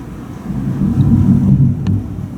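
Thunder rumbling outside a hotel room at a mountain lodge in Pigeon Forge, Tennessee: a low, muffled roll that swells and fades over a couple of seconds, heard through the walls with no talking.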